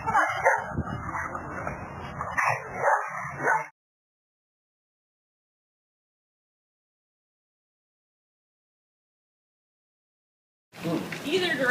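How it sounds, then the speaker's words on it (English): A dog barks, yips and whimpers in a cluster of excited, close sounds. A long stretch of silence follows, then the yelping starts again at the end. "There's the dog right there."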